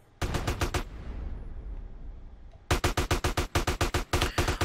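Bursts of automatic gunfire in GTA San Andreas, a quick volley, a pause filled with rumbling game ambience, then a long run of sharp, loud shots in rapid clusters.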